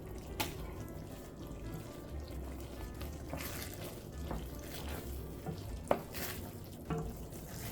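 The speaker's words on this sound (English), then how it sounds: "A few slow stirs brings everything together." Mushroom risotto finished with butter and grated Parmigiano Reggiano is slowly stirred in a pot, giving soft wet scraping and faint clicks over a low steady background, with a few sharper taps of the spoon.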